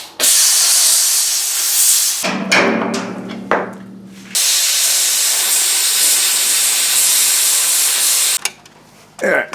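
An empty steel oil tank being cut in half, harsh loud hissing and spraying bursts from the cutting tool alternating with brief quieter gaps and clattering metal as the cut progresses.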